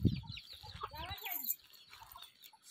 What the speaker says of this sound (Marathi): शिंग ह्या कोंबड्या